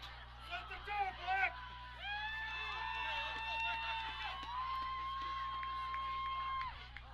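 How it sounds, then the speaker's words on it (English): Crowd in the stands at a high school football game between B-W and Lodi, a steady murmur of voices from close by with whoops and cheering, while a bright sustained tone rings over it. "If it sounds like there's more crowd noise, it's because we are in the crowd"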